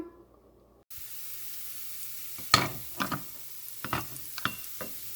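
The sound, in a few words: ginger and garlic sautéing in a pan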